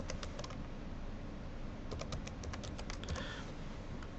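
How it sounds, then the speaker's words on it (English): Fingers typing an email address on a computer keyboard, quick soft key clicks in short runs over a steady low hum, close and faint, with no talking. "We can type in Joe's email address"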